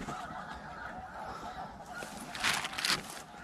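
Specklebelly geese honk as they fly in over an open duck and goose hunt, the calls distant and windswept at first, then swelling into a louder cluster near the end.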